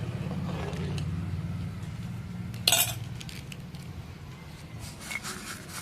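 Oily rice stirred with Maggi in a pan, a low scraping and shuffling of a spoon through rice, then a sharp metallic clink against the pan and softer scrapes afterward, close and fairly quiet.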